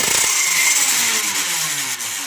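A modified Fortnite AR-L dart blaster's flywheel motor spins up with a loud, high whine that slowly drops in pitch as it winds down, one firing heard up close.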